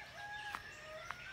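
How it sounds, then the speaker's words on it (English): A rooster crows faintly in the distance outdoors near a bamboo grove, one thin drawn-out call trailing across a quiet background marked by a couple of soft taps. "There's the rooster."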